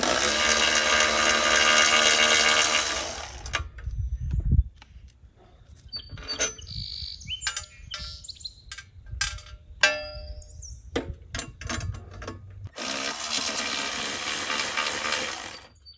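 Wrenches loosening nuts and bolts on the cart and axle of a Flyway 80 auto clay pigeon thrower, heard as scattered metallic clinks and clanks between stretches of loud broadband noise at the start and end.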